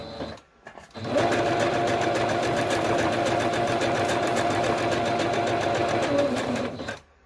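A sewing machine runs steadily for about six seconds on a zigzag stitch through fabric while collage snippet strips are made, a close, continuous mechanical whir with a short pause at the start and a stop at the end.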